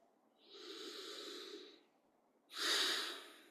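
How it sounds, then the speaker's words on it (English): A big deep breath, drawn in slowly for about a second and then let out in a stronger, airy exhale, close and alone with no talk. "Big deep breath."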